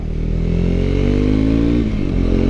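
A Triumph Scrambler 400 X motorcycle engine drones steadily up close while being ridden on new tires, its pitch climbing under acceleration before a brief dip as the rider shifts from second into third gear.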